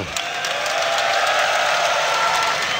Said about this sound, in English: Please give a warm round of applause for Synderen and Toby1.